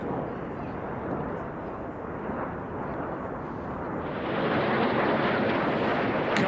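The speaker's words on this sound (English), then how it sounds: "Coming in from the left-hand side at over 450 miles per hour is Red 9, Flight Lieutenant Patrick Kershaw" Red Arrows jets pass over the Goodwood Festival of Speed, a broad roaring rush that swells louder near the end as a solo jet comes in at over 450 mph, with a commentator talking over it.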